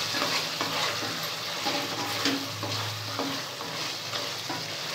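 Turkey masala fries and sizzles steadily in a pan while being stirred, with close, continuous crackling and scraping and no talk.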